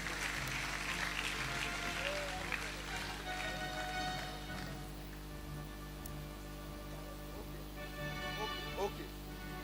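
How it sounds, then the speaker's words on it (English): Crowd applause in a large hall at a university orientation for newly admitted students, a steady broad wash of clapping throughout, busy and sustained, with voices mixed in. "a round of applause for him"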